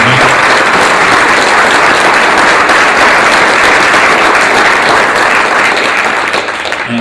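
Loud, sustained audience applause from a political event crowd, dense steady clapping filling the whole stretch without pause, tapering only slightly at the very end.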